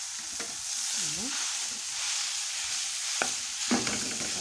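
Minced meat sizzles in a pan as it is stirred, giving a steady close hiss punctuated by a few sharp scraping and tapping strokes of the utensil, with no voices.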